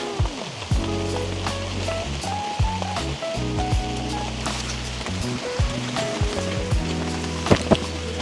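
Rain patters steadily on a tent at a lakeside campsite, a dense close hiss with scattered heavier drips and taps throughout.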